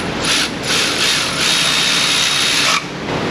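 A ratchet wrench turns bolts on a transmission in an auto repair shop, giving a steady, close, continuous whirring clatter that runs almost unbroken and then shifts and fades slightly near the end.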